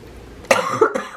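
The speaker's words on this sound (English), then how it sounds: "sorry for any like coughing" A person coughs a few times in quick succession, a short sharp burst followed by a couple more coughs, close and fairly loud.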